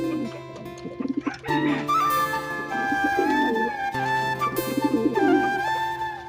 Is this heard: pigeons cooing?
yes